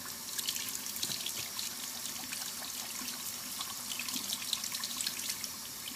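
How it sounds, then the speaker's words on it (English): Water runs steadily from a sink tap as a paint brush is rinsed clean beneath it, a continuous close hiss with small splashing and trickling variations throughout and no talking. "And then what I'm gonna do is rinse this out so it's nice and clean. And then I'm gonna rinse off my brush."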